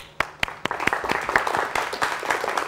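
A television studio audience bursts into applause of dense, rapid clapping that swells quickly and stays loud and close for the whole stretch.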